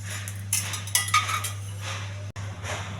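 Metal pan and plate clinking with cutlery while urad dal is fried in a little oil, a few bright clinks and scrapes over a steady low hum.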